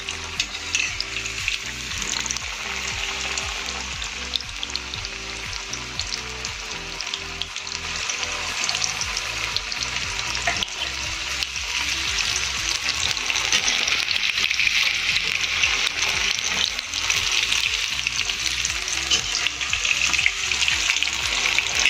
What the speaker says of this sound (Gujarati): થોડું એમ લાગે કે હવે તેલમાં ફ્રાય થઈ ગયું છે એટલે આપણે આને બહાર લઈ લઈશું